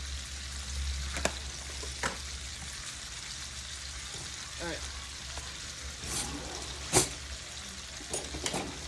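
A steak fries in a hot frying pan with fresh rosemary and garlic over medium-high heat, giving a soft, continuous sizzle with scattered pops and a few sharper spits close by.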